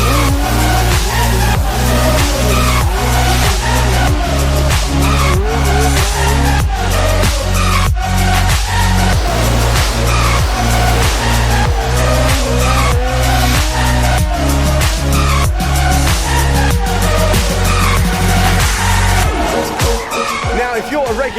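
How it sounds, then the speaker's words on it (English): A Nissan 350Z stunt car skids at Santa Pod Raceway during a street car event, tires squealing loudly over a continuous roaring engine. A driving music beat and an announcer's voice run beneath it. "look no further than our stunt performers, including Terry Grant with a Nissan 350Z, the legend car"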